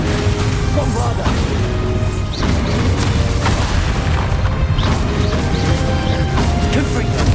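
Bombarda spell blasts in the Hogwarts Legacy video game during a final boss fight, heavy booming crashes layered in dense, loud continuous game noise, with a voice talking over the battle.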